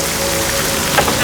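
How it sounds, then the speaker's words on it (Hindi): Loud, dense rain pouring down steadily on a road, a close hiss of drops hitting a surface with no voices. "कुछ मिनट ही हुए थे कि बारिश शुरू हो गई"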